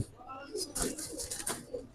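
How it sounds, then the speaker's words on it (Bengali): Large pigeons give soft, low cooing calls close by, in short repeated bursts under a man's speech. "বিগ সাইজের দুটা বিগ সাইজ সুন্দর কবুতর"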